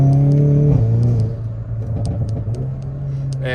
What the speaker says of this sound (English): you get a lot more turbo sound with the box open